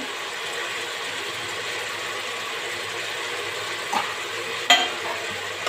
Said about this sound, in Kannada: ಇದನ್ನು ಸ್ವಲ್ಪ ಫ್ರೈ ಮಾಡ್ಕೊಳ್ಳೋಣ ಸೊಪ್ಪೆಲ್ಲ ಈ ಎಣ್ಣೆ ಒಳಗೆ ಫ್ರೈ ಆಗಬೇಕು